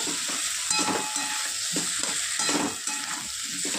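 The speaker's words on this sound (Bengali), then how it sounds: "এবার আমি দিয়ে দেবো ভেজে রাখা পটল দিয়ে। পটলটা দিয়েও আমি একটু কষিয়ে নেব।" Fried pointed gourd being stir-fried in oily spice paste in a pan for a Bengali curry, with steady loud sizzling and repeated scraping strokes of a spatula at a regular rhythm, close and alone.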